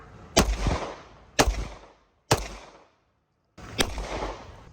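Four sharp, loud gunshots ring out near a police car at uneven intervals, each crack trailing into a short rumbling echo, with no talking.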